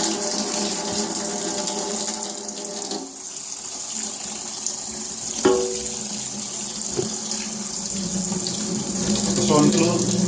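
A computer motherboard washed under a running tap, a steady close hiss of flowing water with a few small clunks as the board is handled.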